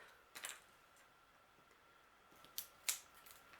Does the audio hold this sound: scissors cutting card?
yes